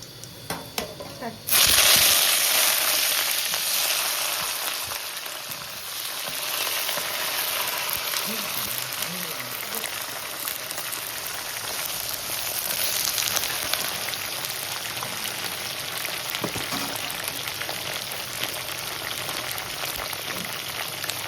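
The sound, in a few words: brinjal pieces frying and sizzling in a pan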